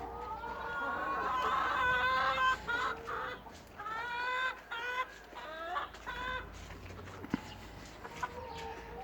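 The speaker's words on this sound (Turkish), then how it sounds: "Ve tavuklarımızı havalanması için bahçeye aldık." Chickens cluck steadily in a close, busy chorus in a garden, with a few sharper squawks now and then over quiet outdoor background.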